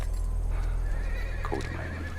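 Horses whinny amid a steady low rumble, with a sharp neigh near the middle and faint hoof clip-clops beneath, set in the African wild.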